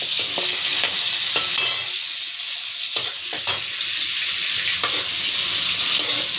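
Prawns frying in a pan give off a loud, continuous sizzle, with intermittent scrapes and knocks as a spatula stirs them, and no voices.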